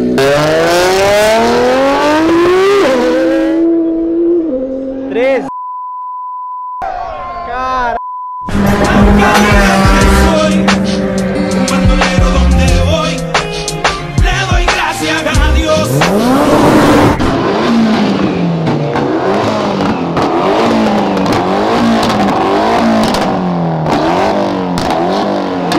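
A Nissan Skyline GT-R R34 drifting, its engine revving hard and rising and falling repeatedly, with tire squeal, a brief beep and loud close engine noise throughout.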